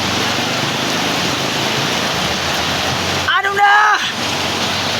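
Heavy monsoon rain from a storm-driven southwest monsoon pours steadily as a loud, dense hiss throughout, with a person speaking briefly over the downpour near the end.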